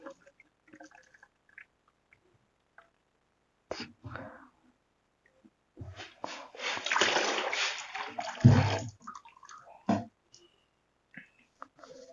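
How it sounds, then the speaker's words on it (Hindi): Three liters of undiluted acid pour into nine liters of water while mixing a homemade toilet cleaner, giving a few seconds of loud, close splashing and sloshing with scattered drips and small knocks before and after. "9 लीटर जो पानी है ना उसमें हमने 3 लीटर जो तेजाब है ये ऐड कर लिया है"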